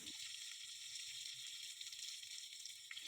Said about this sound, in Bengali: এখন হচ্ছে একটু বেগুন ভেজে নিচ্ছি।